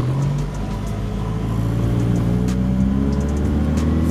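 A slow car strains under full throttle with a heavy, steady engine drone and low rumble, loud and close from inside the cabin, no voices.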